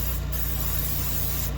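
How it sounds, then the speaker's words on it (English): Crisco butter spray hisses into a pan in one continuous, loud, close spray lasting the whole moment, a steady airy rush over a faint low hum. "Crisco butter spray in my pan."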